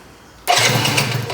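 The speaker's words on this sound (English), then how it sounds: "The starter mode is louder than the bike" A rebuilt Yamaha BWS 50 scooter engine catching on the starter after a quiet moment, then running loud and steady close by.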